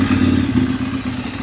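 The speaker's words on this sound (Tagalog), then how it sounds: "Ito yung tunog ng Ducati." A Ducati motorcycle fitted with an Arrow titanium exhaust idles after a cold start, giving a close, loud, lumpy low rumble with an uneven throb over a brief moment, no speech.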